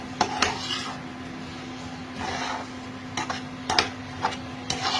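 A spoon stirs prawn malai curry in a pan after a little water is added, giving scraping and clinking metal strokes in irregular bursts over a steady low hum, with no talking.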